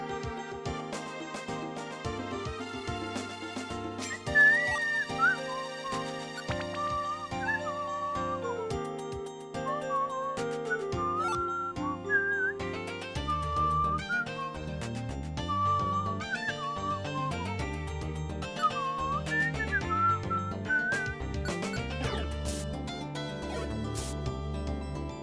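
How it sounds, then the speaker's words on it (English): A person whistles a wavering melody along with the dungeon music from Pokémon Mystery Dungeon: Explorers of Sky, which plays steadily throughout with layered synth instruments. "Expect a lot of whistling to the dungeon themes."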